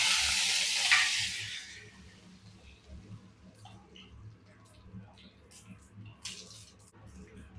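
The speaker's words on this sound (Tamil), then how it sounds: "கருவேப்பிலையை போட்டு தாளிக்கணும்." Curry leaves and vadagam drop into hot oil in a kadai, giving a loud burst of sizzling that quickly settles into a softer, steady crackle with occasional pops.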